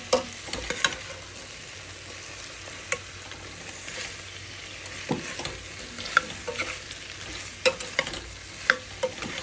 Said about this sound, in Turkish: Bu şekilde de güzelce patates hafif kavuracağım.